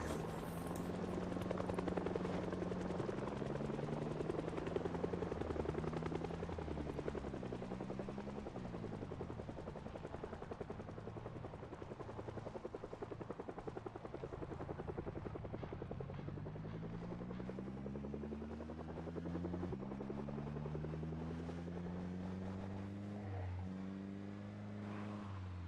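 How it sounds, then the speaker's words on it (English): A helicopter in Project Zomboid thunders steadily overhead, its rotor drone rising and falling in pitch as it circles, loud and continuous throughout with no voices. "Why did I get no warning that the chopper was coming?"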